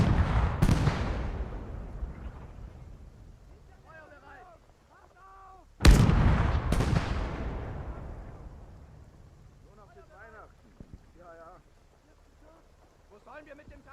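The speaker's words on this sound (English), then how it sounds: "They're just gonna keep firing that giga artillery" Heavy artillery pounding away in a WW2 real-time strategy game, two huge booming blasts with long rumbling decays, the second midway through, while shouted voices break in between.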